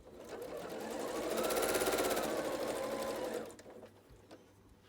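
Sewing machine stitching down a seam flap on a quilt block, a steady close whirring drone of rapid needle strokes that builds, holds for a few seconds, then stops, leaving quiet room tone.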